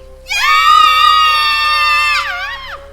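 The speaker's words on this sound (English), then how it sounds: "The 3 fillies screamed and began to trot off in different directions" Several young fillies scream together in one sustained, shrill, close chorus that wavers and drops away at the end, played as a sound effect in a dark mystery story reading.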